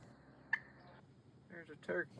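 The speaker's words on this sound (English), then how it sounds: "I've had several run-ins with wild turkeys this year, and I was able to film some in these 2 video segments." Wild turkeys gobble outdoors in a few short bursts, one brief call near the start and a louder, rougher double burst toward the end, fairly close and clear over faint background hiss.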